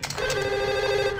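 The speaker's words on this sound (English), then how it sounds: "Y'all wanna answer the phone again?" An old-style telephone bell in the video game Max Payne rings in one steady, continuous burst, loud and close, with no voices over it.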